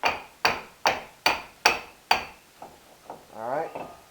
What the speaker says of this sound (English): now you want to take your brake caliper and just tap it off of the rotor here